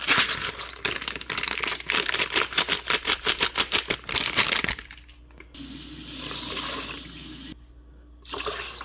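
Water poured from a cup into a rice maker pot, a steady splashing stream with rapid fluttering pulses that gives way to quieter trickling and brief pauses, close and fairly loud with no talking.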